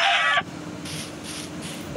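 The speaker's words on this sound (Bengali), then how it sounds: "এই মুরগি দেখি মুরগি তো" A chicken clucks in the video game Craftsman, a short honking call followed by softer repeated bird sounds under quiet game ambience.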